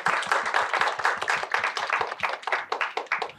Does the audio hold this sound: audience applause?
yes